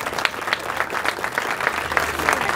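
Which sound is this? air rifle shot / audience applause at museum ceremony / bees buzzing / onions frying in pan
audience applause at museum ceremony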